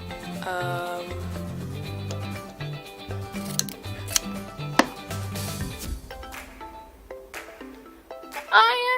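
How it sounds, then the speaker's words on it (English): Scissors snipping thread on a doll's pageant dress, with a few crisp close snips set against soft background music. "So let me get my scissors and just snip."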